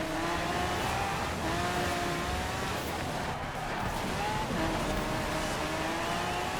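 Several cars race on a snowy track in the Forza Horizon 4 winter event, including two Lamborghinis, with a steady, loud engine drone and faint tire noise running throughout without pauses.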